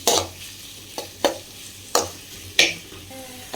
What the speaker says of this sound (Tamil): ஆனியன் நல்லா வந்து ப்ரௌனிஷாக வறுத்துக்கலாம், நல்லா பொன்னிறமாக வறுத்துக்கலாம்